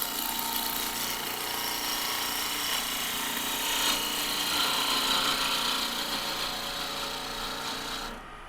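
A wood lathe tool cuts a tenon on the end of a turned box blank, giving a steady, close, continuous hissing scrape that tails off at the end.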